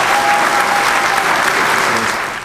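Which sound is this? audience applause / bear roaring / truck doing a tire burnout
audience applause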